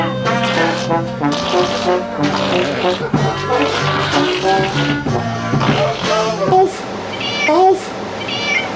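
A band plays a tune on a talk show, loud and continuous with melodic lines, voices mixed in, and high meow-like sliding notes near the end.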